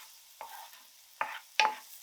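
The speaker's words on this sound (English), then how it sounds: "heat some sesame oil in a frying pan, add some onion and salt, and cook those up until the onion turns translucent" Onion and salt cook in sesame oil in a frying pan: three short scraping stirs at uneven intervals, the last the loudest, with a faint quiet background between them.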